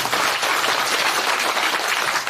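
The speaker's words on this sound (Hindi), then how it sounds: "इनके सबके लिए एक बार पुनः जोरदार ताली" Loud, dense audience applause for the musicians at a seven-day Bhagavat Katha religious gathering in Manali, a continuous wash of clapping filling the whole stretch.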